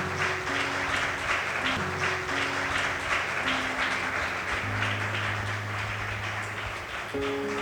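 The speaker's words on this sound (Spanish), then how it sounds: "Dele un aplauso a Cristo por eso." Sustained crowd applause at a church service fills the space, with dense clapping continuing steadily over low musical tones.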